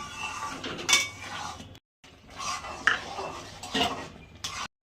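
An egg chilli pan is taken off the stove, with close clanks and scrapes of metal cookware and utensils, a few sharp clinks among softer rattles, broken by brief pauses.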